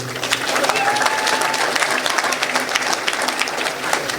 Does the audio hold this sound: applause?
yes